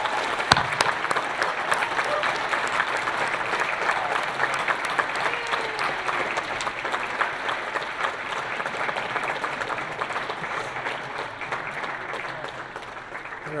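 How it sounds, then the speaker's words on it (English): An audience applauds the 2017 class of Hall of Fame inductees, sustained dense clapping filling the hall at steady loudness for over ten seconds. "Let's give them a great round of applause."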